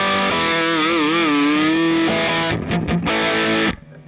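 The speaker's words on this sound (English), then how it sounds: "This is overdrive distortion." An electric guitar through heavy overdrive distortion, sustaining a bent, wavering note before a few choppy chords, then cutting off abruptly.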